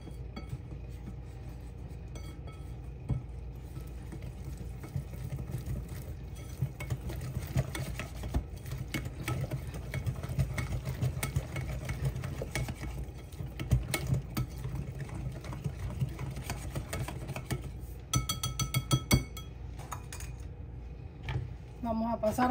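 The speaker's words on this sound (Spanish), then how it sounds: "Vamos a revolver." Walnut cookie dough is stirred in a bowl, a steady rough scraping and swishing that runs almost without pause, with a muffled voice in the background and a few brighter clinks near the end.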